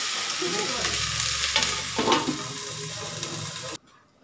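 Shrimp drops into a pan of frying potatoes, giving a steady close sizzle with stirring scrapes and a brief louder burst of spitting oil before the sound cuts off abruptly.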